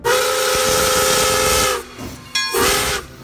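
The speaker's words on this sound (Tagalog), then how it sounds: "ang tunog ng tren ay" A loud, sustained train steam whistle blows for nearly two seconds, breaks off, then sounds again briefly, with hissing steam and no voices.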